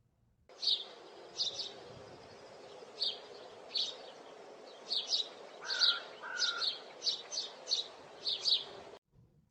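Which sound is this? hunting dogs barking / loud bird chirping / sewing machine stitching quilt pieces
loud bird chirping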